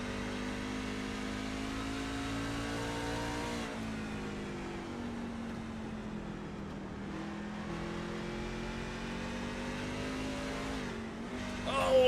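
Racing trucks at Richmond Raceway in a racing video game drone and rev steadily, with engine pitch shifting through gear changes around the oval and a louder surge at the end, under no speech.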